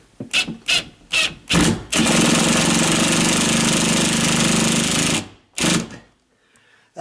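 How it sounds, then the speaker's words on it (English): An impact drill drives drywall anchors into 1/2 inch sheetrock, first in several short rattling bursts, then a long loud continuous hammering run that stops abruptly, followed by one more brief burst. "That's the beauty of these impact drills."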